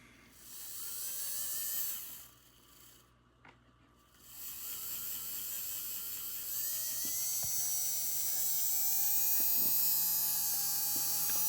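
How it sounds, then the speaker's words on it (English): A restored Jouef 231 Du Nord Pacific model locomotive runs with a steady, fairly loud whining electric motor, dropping out briefly before resuming with rising pitch and small clicks. "It's very quiet besides the motor, which is a little loud, but like the actual gears are not making any sound"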